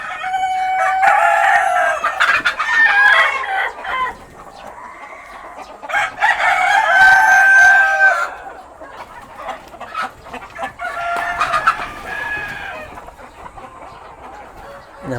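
Banaba native Philippine chickens crow and cluck nearby, several loud drawn-out crows alternating with quieter clucking, with no talk.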